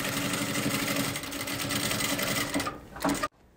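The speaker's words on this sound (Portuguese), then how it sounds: "vai passar uma costurinha aqui" A sewing machine runs in a steady, fast mechanical whir as it stitches a seam on the lining of a fabric Bible cover, then stops abruptly.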